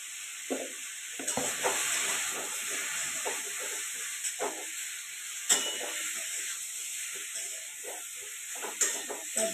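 Ground coriander, cumin and turmeric frying in a pan, a steady loud sizzle and hiss with intermittent scraping stirs and clinks throughout.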